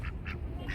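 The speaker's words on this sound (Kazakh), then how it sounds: "Мынау қаздар ғой, үйректер ма, бірдеңелер ғой." Geese or ducks at a zoo quack three times in a quick, moderately close series, with no talk over them.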